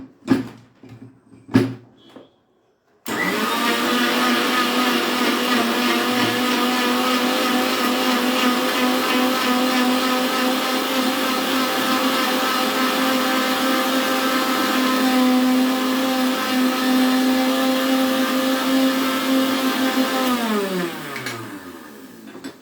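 After a few knocks, an electric mixer grinds a sharbat premix in one long, loud, steady whirring run that holds for about seventeen seconds before spinning down and stopping.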